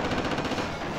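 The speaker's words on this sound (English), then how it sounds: "Who's shooting me?" Rapid machine-gun fire rakes the player in a Battlefield match on the Battle of Crete 1941 map, a dense, continuous rattle of overlapping shots filling the whole second at close range.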